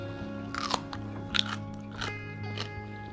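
Someone bites into and chews raw red cabbage up close, giving a few sharp, wet crunches spaced about a second apart over a quiet background.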